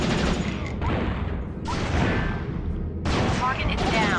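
Rapid bursts of gunfire in PS2 SWAT: Global Strike Team, sounding in a warehouse showdown as three loud, dense volleys separated by brief pauses, with voices shouting commands amid the shots.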